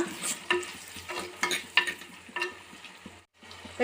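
Tomatoes sautéing in a pan for urundai kulambu, a Tamil curry: a soft sizzle runs under repeated scraping stirs at a steady, unhurried rhythm, close and fairly quiet, with a brief pause near the end.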